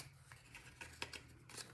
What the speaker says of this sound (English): Just take your scissors and cut that off.